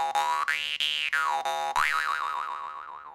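Jaw harp twanging in a fast pulsing rhythm, its resonant boing sweeping up and down in pitch as the mouth shape changes, then wavering and slowly fading, close and alone.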